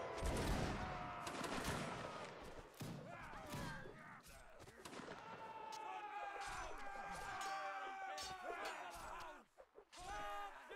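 Musket volleys crackle through a Napoleonic Wars video game line battle, dense overlapping shots and rattling fire with crowd noise, heavy and continuous, with a brief dip near the end, under faint voices.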